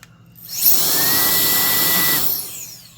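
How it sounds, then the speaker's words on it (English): A high-pitched whine from an electric turbine air duster, a SolarEye X13 rated at 180,000 rpm, spins up sharply, holds loud and steady for about two seconds, then winds down. "they have these tiny little turbine fans that are just spinning at these incredible speeds."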